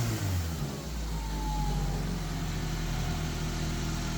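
A Nissan Pulsar N14 engine with intake modifications idles steadily after an idle adjustment, a continuous close, fairly loud mid-pitched drone with a slight dip near the start and no talking.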